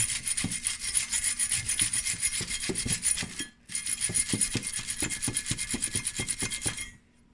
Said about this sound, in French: Là, on va le sabler.